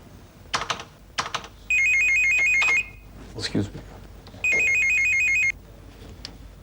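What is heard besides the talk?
phone ringing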